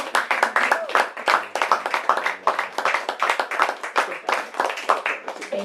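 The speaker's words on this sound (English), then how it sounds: "Let's give one more round of applause for Michael and Shelley." Audience at a book event for Michael and Shelley claps steadily, a close, moderately sized round of applause with individual hand claps audible and no talk.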